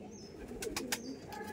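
Madras pigeons coo softly nearby, with a few brief chirps and faint wing or rustling sounds against a quiet background.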